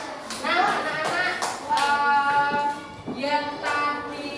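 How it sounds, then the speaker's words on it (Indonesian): A children's class claps for group 4 in a classroom, a loose burst of small hands clapping close by, with children's voices and a sung or chanted tone mixed over the clapping. "tepuk tangan untuk kelompok 4"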